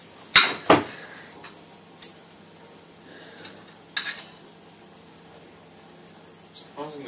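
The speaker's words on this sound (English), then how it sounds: "I'm cutting on a plate, people, because Tim's family only have a wo" A knife scrapes and taps against a plate while cutting an onion, in a few sharp, clattering strokes, spaced out between quieter kitchen sounds.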